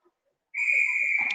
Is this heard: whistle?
yes